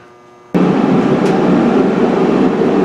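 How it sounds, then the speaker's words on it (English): Heater blower running inside a 2000 Ford F250 Powerstroke truck cab, a steady loud broadband whoosh that switches on abruptly and holds constant, with no talking. "We got the heat running in here."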